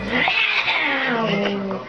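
An angry cat yowls in one long, loud, wavering caterwaul that rises and falls close up for the full two seconds.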